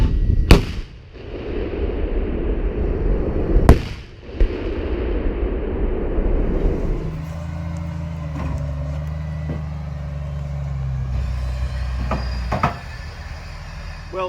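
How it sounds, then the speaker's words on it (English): Swedish Archer howitzer firing during NATO live-fire drills in snowy Finnish Lapland: two sharp, loud booms a few seconds apart, followed by a low rumbling engine drone with a few faint clicks. "I'm standing in front of a Swedish Archer howitzer weapon."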